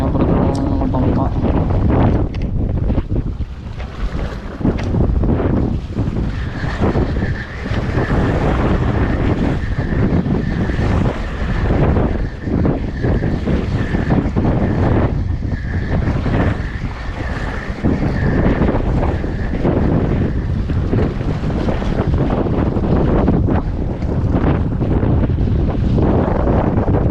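Strong wind buffets the microphone at a coastal fishing spot along a boat lane, a constant loud roar with gusting rumble, while water laps and a voice speaks briefly underneath.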